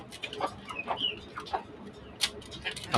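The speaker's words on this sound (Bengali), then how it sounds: "এই হচ্ছে আমার শখের মুরগির খামার" Chickens cluck in short, scattered bursts close by on a small poultry farm in Dhaka, with a few higher squawks over a quiet background.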